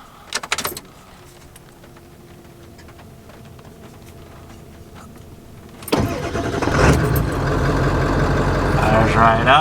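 Ford 7.3 Powerstroke diesel engine cranking and firing up after a brief jangle of keys, quiet at first then catching into a loud, steady idle close by.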